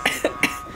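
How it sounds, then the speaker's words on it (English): A person coughs three times in quick succession after choking on their own spit. The coughs are short, close and fairly loud, evenly spaced across under a second, with no other talk. "I just, like, choked on my spit or something, and I could not stop coughing."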